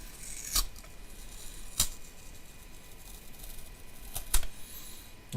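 A PCB panel being pulled off its tape backing, heard as four sharp, brief crackling snaps of peeling tape spaced unevenly over a quiet background.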